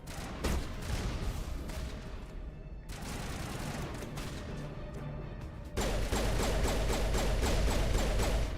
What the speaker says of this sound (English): Rockets, huh?